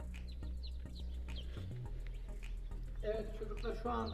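Newly hatched chicks peep in an incubator during a school biology hatching experiment, a steady stream of high chirps close by over a low electrical hum.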